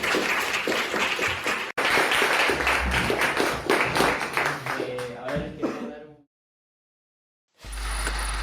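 Audience applause at the close of an academic talk on the recent Chilean student movement, a dense burst of clapping lasting several seconds, thinning into scattered claps before silence.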